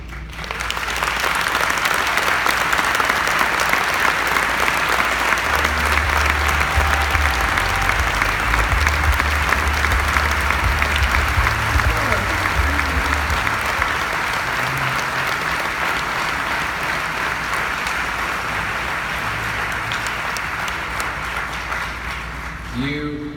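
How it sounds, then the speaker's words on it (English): Sustained applause from a large audience at an NSA Influence opening keynote, a loud, even wash of clapping that runs unbroken for over twenty seconds and tapers only slightly at the end. "You hear applause, and that applause is filled with a bit of technological awe and also relief."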